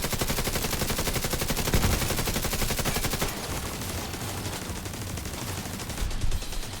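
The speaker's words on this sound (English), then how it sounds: "turret is doing its darndest to do the shooting" A video game turret fires nonstop in rapid automatic bursts, loud and close, with a denser rattle for the first few seconds before the shots thin into a slightly lighter, steady chatter.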